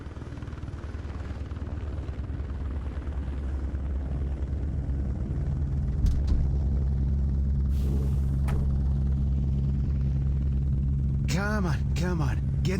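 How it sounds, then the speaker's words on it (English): Helicopter in the video game Mr. Meat 2, a rotor rumble that swells from a lower level into a loud, steady throbbing drone, joined by a few brief bright effects near the end. "Get in the helicopter quickly."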